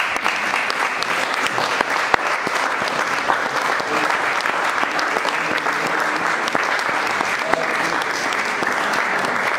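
A church congregation in Creil claps together, steady and loud for the whole stretch, with a few voices faintly underneath.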